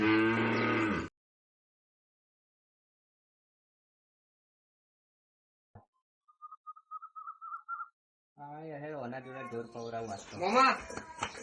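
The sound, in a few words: cows mooing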